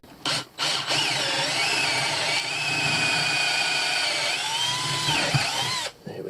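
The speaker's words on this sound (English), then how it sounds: "Now I need to drill another hole to put this wire through." A power drill bores a hole for a wire while installing gear on a small boat, whining loudly and steadily for several seconds, with a brief stop and restart near the start.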